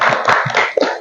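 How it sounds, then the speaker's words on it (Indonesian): A classroom of students clapping for their classmates, a short, close, dense burst of hand claps lasting about a second. "Tepuk tangan untuk teman-teman kita."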